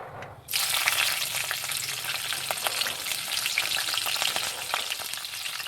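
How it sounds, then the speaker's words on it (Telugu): Spices and green chillies tempering in hot oil for a cluster bean curry, a loud, steady crackling sizzle with scattered sharp pops that starts abruptly after a brief quiet moment and holds alone throughout. "అవి కొంచెం చిటపటలాడిన తర్వాత పచ్చిమిర్చిని వేసుకుందాం"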